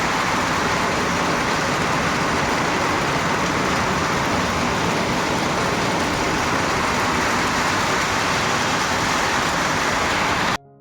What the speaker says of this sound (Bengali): উপরে যেহেতু টিনের সেট লাগানো আছে, যার জন্য প্রচুর পরিমাণে আওয়াজ হয়